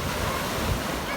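Ocean waves washing onto a beach during a family day out, a steady close surf wash mixed with wind buffeting the microphone, with no talk.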